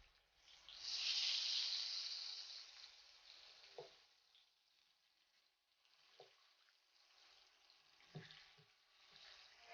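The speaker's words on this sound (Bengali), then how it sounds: "এই চাল কুমড়াগুলো ভেজে নিব" Ash gourd slices frying in oil in a pan, a quiet sizzling hiss that swells briefly and then fades, followed by a few soft, sparse pops and clinks, with no talking.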